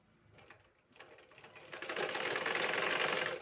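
A sewing machine stitches cloth, starting with a few light mechanical taps and then running into a steady, fast, loud whirring chatter.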